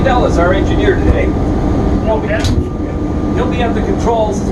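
A steady low diesel engine drone from a 600 horsepower SW1 diesel-electric locomotive rumbles continuously up close while people talk over it.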